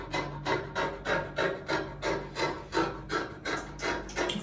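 Scissors cutting through fabric to trim the shoulders of a dress, a steady run of about ten even, rhythmic snips heard close up and alone.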